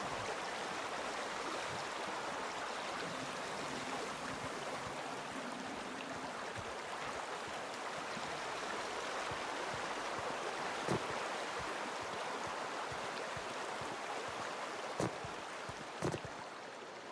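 Steady, quiet rush of flowing water in the sci-fi game The Outer Worlds, a continuous broadband stream sound with a few brief clicks near the end.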